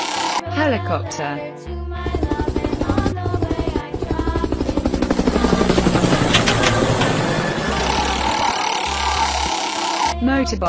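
Helicopter rotor effect from a toy vehicle in a kids' figurine game: a loud, steady rapid chopping pulse, close and continuous over an upbeat musical backing.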